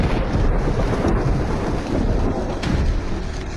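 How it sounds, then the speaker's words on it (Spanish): A thunderstorm with steady, heavy rain hissing loudly throughout, with low rumbles of thunder rolling beneath the downpour and no voices. "Les daré una lluvia. Artificial directa."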